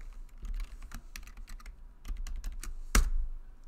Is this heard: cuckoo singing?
no